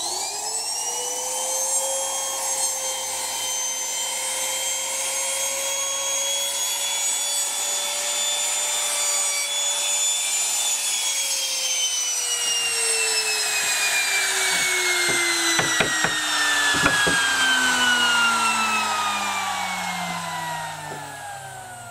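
A power tool motor whines steadily while cutting wood for a guitar neck, its pitch sagging gradually under load toward the end, with a few sharp knocks near the close; loud and close, no talking.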